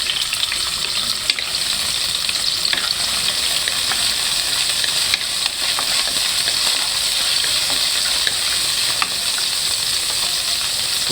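Garlic sizzling and frying steadily in hot cooking oil in a pan for a home-cooked vegetable dish, a dense continuous crackle with occasional sharper pops, close and fairly loud, with no talking.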